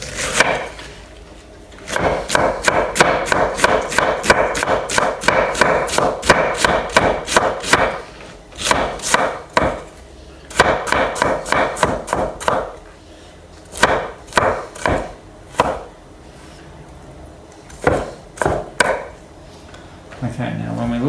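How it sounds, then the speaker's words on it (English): A sharp knife slices cabbage thinly for sauerkraut, its rapid, rhythmic strokes knocking on the cutting board in bursts separated by short pauses. "So I get very thin little slices here, which is why I like the knife"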